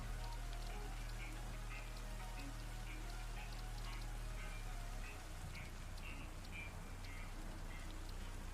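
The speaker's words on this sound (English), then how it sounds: "So we know it's rain." Rain falls as a steady, even hiss in the video game Satisfactory, with faint droplet patter throughout and no voices.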